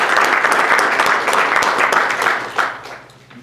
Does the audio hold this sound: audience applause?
yes